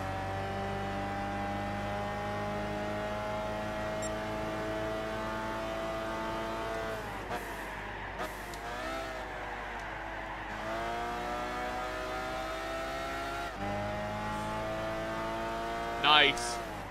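Race car engine lapping a track in the video game Gran Turismo 6, a steady high drone with gear-change dips and rising pitch sweeps along the main straight, under a player's excited talk.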